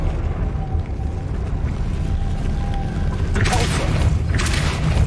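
Two bursts of a Confringo blasting-spell explosion in a video game rise over a low, continuous rumble, the second following about a second after the first.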